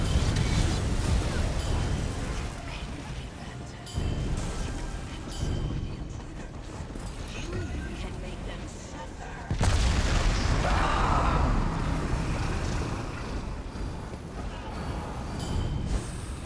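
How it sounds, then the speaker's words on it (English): Explosions rumble in The Elder Scrolls Online, deep booming bursts at intervals with a big blast near the middle, layered over game effects. "Okay, explosion."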